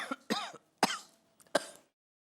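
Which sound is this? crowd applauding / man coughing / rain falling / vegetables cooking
man coughing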